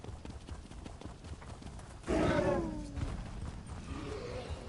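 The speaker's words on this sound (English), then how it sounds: "I get to ride my horse" Rhythmic hoof clip-clops from a ridden horse in The Elder Scrolls Online, with a loud whinny-like call midway, then the steady trotting continues over a background hum.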